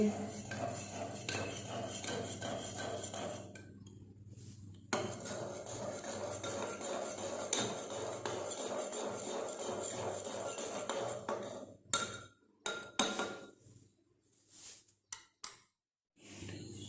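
Tamarind and plum sharbat being mixed in a pot, with a continuous clatter of a metal spoon scraping and knocking against the vessel, pausing briefly and ending in a few scattered clinks.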